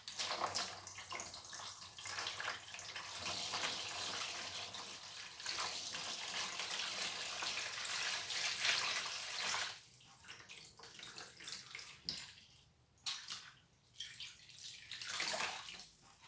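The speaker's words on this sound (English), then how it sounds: "We'll just pop 4 litres of water into this tray." Four litres of water pour into a tray of coco coir, a continuous, splashy rush like a tap filling a basin that holds for about ten seconds, then breaks into uneven gushes and trickles as the pouring tapers off.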